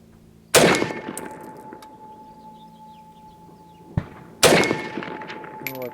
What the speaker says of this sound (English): So let's go ahead and put a few more. 50 yards with the SKS.